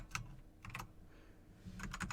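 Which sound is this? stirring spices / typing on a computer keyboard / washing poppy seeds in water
typing on a computer keyboard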